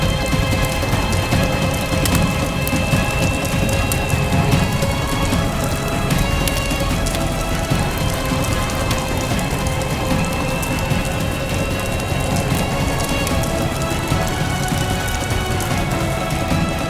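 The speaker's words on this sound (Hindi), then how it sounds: "मौसम ठीक नहीं लग रहा है। तेज तूफान आने वाला है।" Steady, dense rain falls loudly and continuously ahead of an approaching storm, a broad wash of patter with no break and no voices over it.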